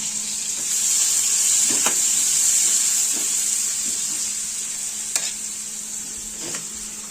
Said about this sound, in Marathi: आता ते कांदा वगैरे परतून घेते